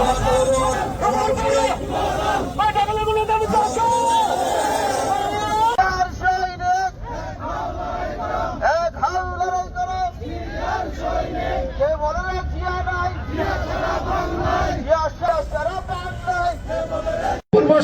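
Large crowd at a youth-wing protest rally in Savar, Bangladesh, with voices massed together in a loud, continuous, chant-like din throughout, the sound staying dense and near with no clear pauses.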